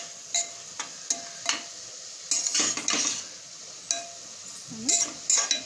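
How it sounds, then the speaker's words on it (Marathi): A spoon stirs cardamom powder, cashews and almonds into carrot halwa in a pan, giving scattered clinks and scrapes against the metal over a faint sizzle, with quiet gaps between the strokes. "विलायची पावडर काजू बदाम मिक्स करायचं"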